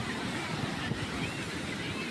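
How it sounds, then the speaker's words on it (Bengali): Steady broadband roar of ocean surf on a beach at Puri, a continuous wash of breaking waves with some wind rumble, heard alone without voices. "সমুদ্রের আওয়াজটা উপভোগ করুন।"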